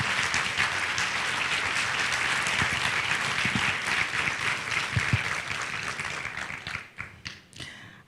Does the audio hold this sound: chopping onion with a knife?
no